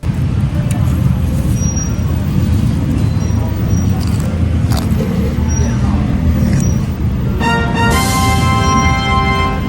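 Noisy street traffic in Bangkok's Chinatown, a steady roadside wash of buses and cars with engine rumble, a brief air-brake hiss and a high whine near the end.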